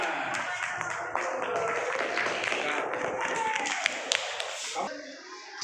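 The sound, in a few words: audience applause in a class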